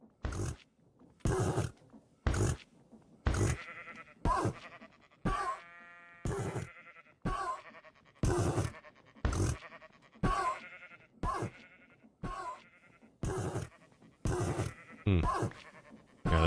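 Horse whinnies and snorts in a Minecraft Create: Arcane Engineering modpack, a series of loud, repeated bursts with short gaps, close and dominant, with no talk over them.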